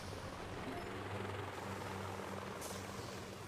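Rocket choppers in the mobile strategy game Boom Beach whir with a continuous, steady rotor drone from start to finish, loud and alone with no voices.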